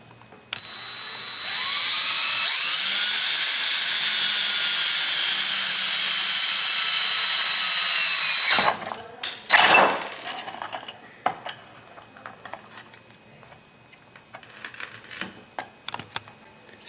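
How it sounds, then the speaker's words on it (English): A hand drill boring a hole with a 5/16 drill bit through the grip of a Dewalt glue gun, a steady high whine lasting about eight seconds, then stopping, followed by scattered clicks and handling noises. "we're going to drill a hole so you can access the button through the grip"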